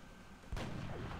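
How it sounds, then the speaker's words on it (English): A single sharp gunshot blast from the turn-based strategy game XCOM Long War bursts in abruptly, then rings out as a loud, sustained roar that stays up to the end. "I can just take a load of shots at this guy fairly safely"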